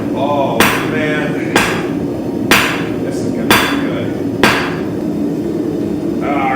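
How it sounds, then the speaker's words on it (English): A hammer strikes hot metal at a forge, five loud, ringing blows spaced evenly about a second apart, close up, with faint background noise between strikes. "see how I'm angling the metal to make it easier to hit?"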